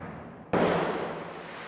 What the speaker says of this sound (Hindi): आपको पटाखों की आवाज़ सुनाई पड़ रही होगी